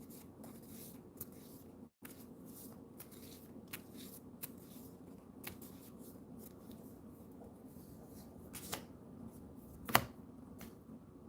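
Quiet, close-up shuffling of a small card deck, soft riffling and sliding with occasional sharper taps and one clack near the end.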